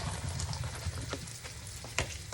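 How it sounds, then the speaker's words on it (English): Andouille sausages sizzle in a hot pan for a blackened pork and Creole dish, a steady close frying hiss with a few sharper pops and crackles, no voices. "I'm gonna add the sausages in."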